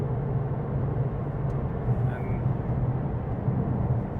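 A Porsche 911 997.2 Carrera 4 on a test drive gives a steady, loud, low engine and road drone from inside the cabin, constant throughout.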